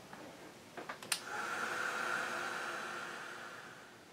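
A handheld heat dryer blows over an art journal page: after a few clicks and bumps, a steady, close airy whoosh switches on and runs continuously to the end.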